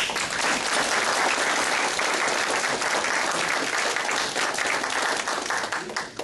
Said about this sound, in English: I'd like to give her one last round of applause.